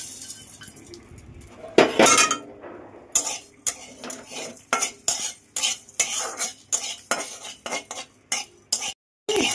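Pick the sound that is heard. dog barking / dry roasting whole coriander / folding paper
dry roasting whole coriander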